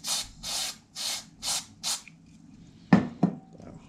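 Contact cleaner is sprayed onto the volume control of an Amstrad CPC464 in five short, close hissing bursts, followed by a couple of sharp clicks or taps.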